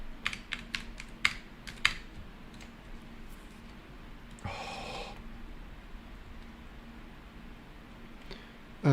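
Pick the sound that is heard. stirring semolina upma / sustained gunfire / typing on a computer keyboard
typing on a computer keyboard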